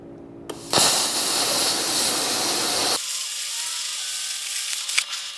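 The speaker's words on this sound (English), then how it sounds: "first we're gonna cut out our hole in the center and the little slots we need" A power tool cuts a center hole and small slots in steel for a garage door opener mount, a loud harsh buzzing grind for about two seconds that drops to a thinner whine and ratcheting rattle.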